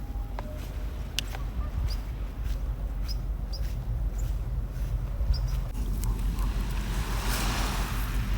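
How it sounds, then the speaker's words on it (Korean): Ocean surf on the shore of Mayne Island, British Columbia, a constant rushing wash mixed with wind buffeting the microphone, a few faint bird chirps and a swell of louder surf near the end. "파도 소리 엄청 들린다."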